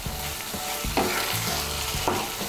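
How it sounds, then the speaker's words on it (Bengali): Okra and potato curry stirred in a pan over raised heat, with repeated scraping strokes and a steady loud sizzle, close up with no talking. "এখন আঁচটা বাড়িয়ে দিয়ে একটু নাড়াচাড়া করে নিলেই তৈরি ঢ্যাঁড়সের সবজি"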